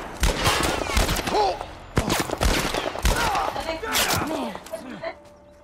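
Repeated bursts of sniper and other gunfire from the game The Last of Us, loud sharp cracks recurring across the stretch, with someone talking over the shooting.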